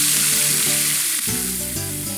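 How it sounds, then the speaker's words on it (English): Carne asada fajitas sizzle loudly and steadily on a hot grill, a close, continuous hiss of frying meat with faint clinks of stirring and no talking. "I like the sizzles and the smells."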